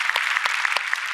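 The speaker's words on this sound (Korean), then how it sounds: "우리 하나님께 영광의 박수 올려드립니다." A church congregation at a Friday evening worship service claps in praise, a steady wash of applause with a few sharper hand claps standing out.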